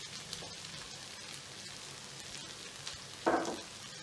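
Small pieces of idli frying in a pan mixture give a soft, steady sizzle with light stirring, and a brief louder scrape or clatter comes near the end.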